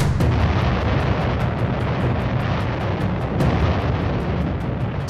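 Explosion of 100,000 pounds of TNT at a munitions depot: loud, continuous booming roar with sharp cracks repeating in a rapid stutter throughout.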